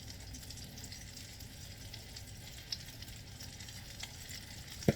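Homemade apple fritters, eight of them, frying in hot oil, giving a steady, soft sizzle that runs evenly throughout with a couple of faint clicks near the end.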